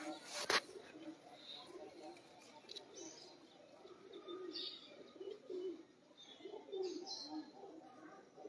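Pigeons coo softly in a rooftop setting, a low murmuring chorus of repeated throaty calls with a few faint chirps and a brief sharp knock near the start, distant and quiet throughout.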